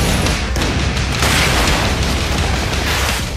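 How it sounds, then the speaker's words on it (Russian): Dense, continuous rumbling explosions and booms fill a military shooter video game demo level, loud and sustained with bursts layered over a deep low roar. "За время показа демонстрационного уровня вы увидели столько взрывов"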